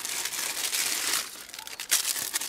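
A small paper bag holding three tealight candles crinkles and rustles close up as it is handled, with steady papery crackling and a few sharper crunches toward the end, no voices.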